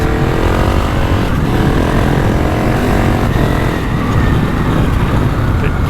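A GasGas ES 700 motorcycle engine roars loud and close while riding, a continuous rough drone with small shifts in pitch as gears change, no voices over it.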